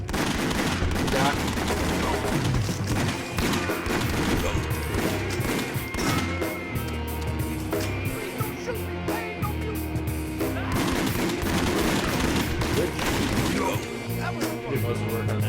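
Rapid bursts of arcade-style gunfire from House of the Dead Overkill, dense and continuous with thuds and crashes, while players talk over the shooting.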